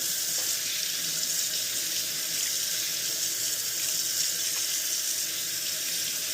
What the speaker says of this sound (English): Rinse that bottom part off